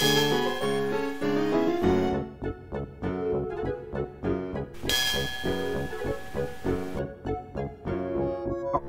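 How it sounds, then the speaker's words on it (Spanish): Bright, ringing bell chimes from the graphic adventure game Loom, a run of clear repeated dings that sound alone in a melodic sequence, with one sharper, brighter strike partway through. "Pues toqué una pequeña campanilla"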